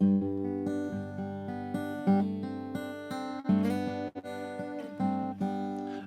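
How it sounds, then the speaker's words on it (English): Acoustic guitar picked in open G tuning, individual notes ringing over sustained low strings in a steady, flowing pattern, close and clear with no voices. "the nice thing about these tunings is they sound great if you pick them."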